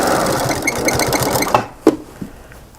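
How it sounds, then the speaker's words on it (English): A sewing machine stitches a rag quilt with a close, rapid mechanical whir that runs steadily, then stops, leaving a few soft clicks and handling knocks. "Make sure that it's still sewing."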